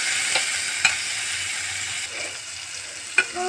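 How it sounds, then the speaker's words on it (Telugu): Half a cup of green peas frying in a pan, a quiet steady sizzle with a few sharp clicks of a spoon against the pan. "ఒక హాఫ్ కప్పు పచ్చి బఠానీలు, ఇవి ఒక 1 మినిట్ ఇలా ఫ్రై చేసుకున్నామండి."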